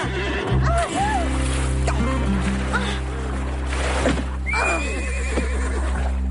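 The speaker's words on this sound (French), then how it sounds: "Si un cheval doit se rouler par terre, c'est Garnet" A horse whinnies several times over a loud, steady low engine-like drone and watery background, its neighs rising and falling clearly through the mix, with some voices faintly underneath.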